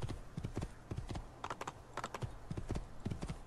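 A horse gallops in Assassin's Creed II with a quick, steady clip-clop of hooves that carries on throughout, fairly close and moderately loud.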